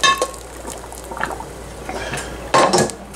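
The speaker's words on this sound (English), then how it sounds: "we're going to throw it into a colander" Blanched vegetables tipped from a pot into a metal colander, a short clattering pour with splashing water and a loud final dump near the end, close by and with no voices.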